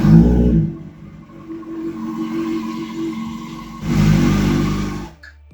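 A Kawasaki Ninja ZX6R (2005-06) motorcycle engine is cranked and runs briefly during an oil change, a loud burst that settles into a steady idle, then rises again before being cut off abruptly.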